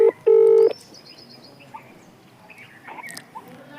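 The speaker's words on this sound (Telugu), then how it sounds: "రింగ్ అవుతుంది, చూద్దాం." Phone call on a mobile: a short loud tone burst followed by a second longer steady tone, then faint electronic chirps and quiet line noise.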